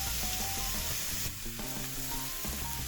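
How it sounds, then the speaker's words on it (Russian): Beef steak searing on its sides in a hot pan, a steady close sizzle and crackle of frying with faint background music. "начинаем обжаривать бока"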